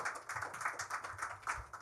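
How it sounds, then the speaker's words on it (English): Audience applause at a conference session, a steady wash of many hands clapping at close-to-moderate distance, brief and continuous without voices. "in your last applause maybe of the day"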